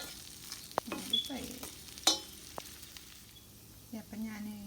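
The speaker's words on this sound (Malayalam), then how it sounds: "ഞാൻ കറി ലീഫ് കൂടെ അതിനകത്ത് ഇതെല്ലാം കൂടി ഒന്ന് നമുക്കൊരു മിനിറ്റ് ഫ്രൈ ചെയ്യാം" Curry leaves and onion fry in a pan on a low flame for a Kerala-style okra stew with coconut milk, giving a soft sizzle broken by scraping stirs and a few sharp clinks, close and fairly quiet.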